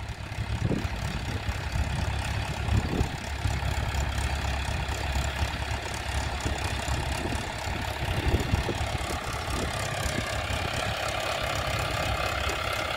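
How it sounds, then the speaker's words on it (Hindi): A Mahindra 575 tractor on 13-inch tyres runs steadily at a potato farm, its diesel engine chugging with an even, knocking idle throughout, fairly close and alone without talk. "ये ट्रैक्टर है महिंद्रा 575, 13 के टायरों में, बहुत बढ़िया काम कर रहा है"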